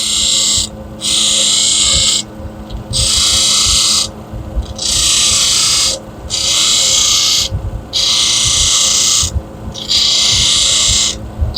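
Stone ring pressed against a spinning grinding wheel after a 220 hard wheel, repeated bursts of bright abrasive hiss lasting about a second each, separated by short pauses over a steady low motor hum, close and loud.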